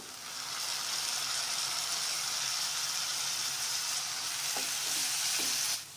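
Chopped tomatoes and onions sauté in a pan for a Tamil-style mutton keema masala, giving a steady, close sizzle throughout with a few brief stirring scrapes near the end and no talking.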